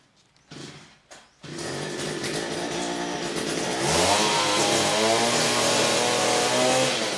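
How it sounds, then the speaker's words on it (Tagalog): A gasoline engine-powered earth auger for digging soil starts up after a couple of short pulls, then runs as a loud, steady motor drone that rises in pitch and strength as it bites into the ground. "panghukay naman po ito ng lupa. Try natin."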